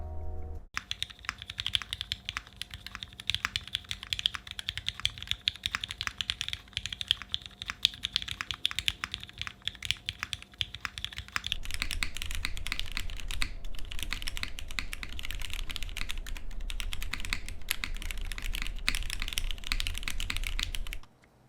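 Vintage West German Cherry MX Black mechanical keyboard switches being typed on steadily, a continuous close run of clicky-free keystrokes that grows denser and faster about halfway through.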